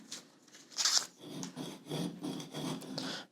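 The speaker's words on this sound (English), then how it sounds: "I do like the whatchamacallit, StewMac nut files because they taper out" Small nut files rasp into the string slots of a brass guitar nut in short, repeated back-and-forth strokes, close and fairly quiet with brief pauses, and no talking.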